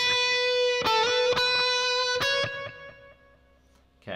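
An electric guitar with light overdrive plays a slow opening solo phrase, a few sustained picked notes and bends ringing out and decaying, ending with a brief pluck, solo and close.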